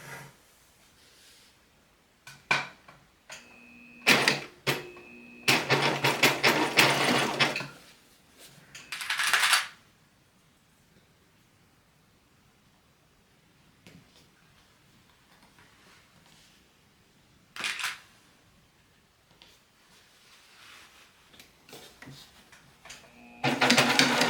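A sewing machine runs a zigzag stitch on a fabric dust cover in several separate bursts of fast, whirring mechanical chatter, close and clear, separated by quiet stretches with small handling sounds.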